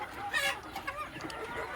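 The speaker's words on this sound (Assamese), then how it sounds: "এইটো সোণালী মুৰ্গী হয়।" A Sonali chicken clucks and gives a short crow, close and fairly quiet, with a few brief calls over a soft background.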